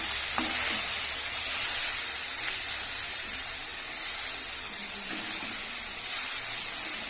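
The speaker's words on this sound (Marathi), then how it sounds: "कांदा जोपर्यंत ब्राऊन होत नाही तोपर्यंत आपण फ्राय करून घ्यायचं" Onion frying in a pan for chana dal masala, a loud, constant bright sizzle with faint stirring scrapes, heard alone without talk.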